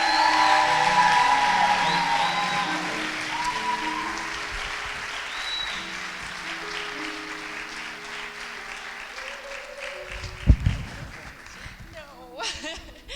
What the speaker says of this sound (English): if you can give her another round of applause